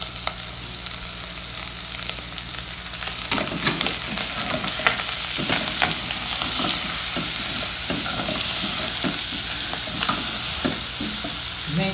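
Tuscan sausage and onion frying in a pan for farofa, stirred with a utensil: a loud close sizzle that grows denser, broken by repeated scraping and clacking strokes, no talking.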